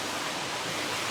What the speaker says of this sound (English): you can probably hear there's this big waterfall in the background.